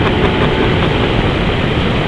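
A Ducati Diavel motorcycle accelerates in a loud, steady roar, with rushing wind noise over the engine at close range.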